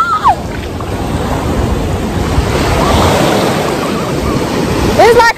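Ocean waves at a Panama City, Florida beach wash and surge up close with a rushing roar and wind buffeting, while brief voices sound at the start and end.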